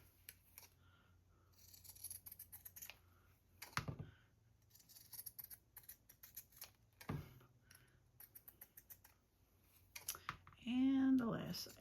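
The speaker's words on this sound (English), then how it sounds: "And we'll get this last one cut." Scissors snip through paper tickets stamped and decorated with fabric and watercolor, a run of soft close cuts and clicks with a voice talking over parts of it.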